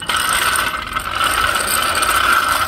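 Motorcycle lift being pumped up by hand, giving a steady run of close mechanical ratcheting clicks, fairly loud and continuous with no talking.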